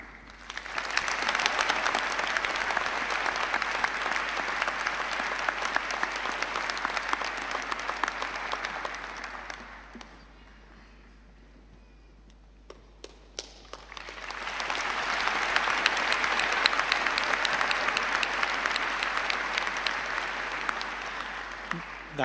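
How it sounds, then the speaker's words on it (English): An audience gives a long round of applause for a graduating Faculty of Medicine class at a commemoration ceremony, with two sustained waves of dense clapping separated by a brief lull. "Please join me in a round of applause to the graduating class."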